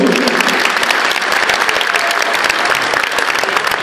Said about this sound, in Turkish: Şöyle ikimize kocaman bir alkış alıyorum.